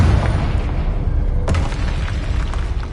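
In the Hogwarts Legacy video game, a Confringo explosion spell goes off as a deep booming blast with a sharp crack at its peak, loud and fading into rumble, with no talking.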